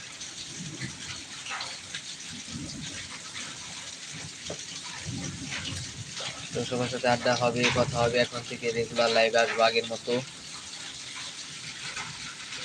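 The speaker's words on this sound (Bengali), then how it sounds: "তো বৃষ্টি হচ্ছে বাইরে প্রচুর বৃষ্টি" Heavy rain falls outside in a continuous, even wash of noise heard from indoors, with someone talking over it through much of the stretch.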